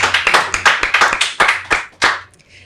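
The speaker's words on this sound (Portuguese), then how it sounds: "Vamos dar uma salva de palmas para Rodrigo?" A small audience claps at a talk about physical activity for autistic children, a few loud, close, uneven hand claps in a quick irregular run that trails off into quiet after about two seconds.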